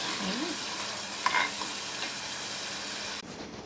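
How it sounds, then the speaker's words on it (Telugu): Tomatoes and onions fry steadily in hot oil in a pan, a close, continuous sizzle with a brief stirring scrape, until the sizzle suddenly drops lower near the end. "టమాటాలు కూడా వేస్తానండి కొంచెం ఉడుకుతాయి"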